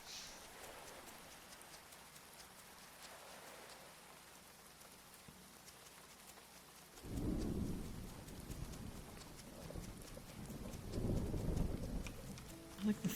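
Steady rain hiss from the video game Grimshire, then deep rumbling thunder rolls in and swells loudly, with a quieter stretch before a second heavy roll.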